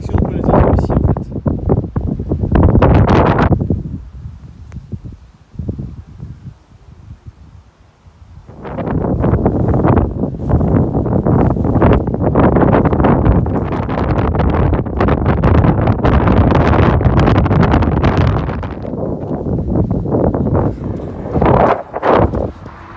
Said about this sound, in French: Sacré vent ce matin.